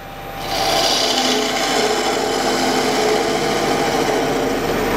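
Steady, rasping scrape of a spindle gouge cutting into wood spinning on a lathe, loud and continuous after a brief quiet start, with a low machine hum underneath.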